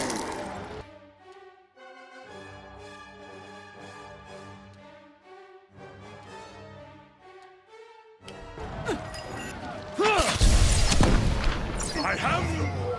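A Detonate spell going off in the fantasy role-playing game Pillars of Eternity: after a stretch of harmonic music, a loud, dense blast erupts and rumbles on under crackling, crashing debris.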